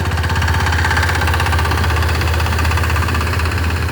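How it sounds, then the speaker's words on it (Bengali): A small diesel power tiller engine chugs steadily and loudly close by in a field, with a rapid knocking rhythm that never lets up. "মাঠে পাওয়ার টিলার আজকে ধুমছে চলতেছে"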